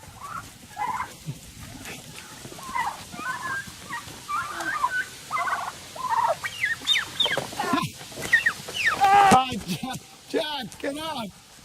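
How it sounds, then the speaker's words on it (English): Flock of turkeys gobbling and clucking close by, rising to a noisy chorus of overlapping calls, with excited people shouting over them. "They're just turkeys."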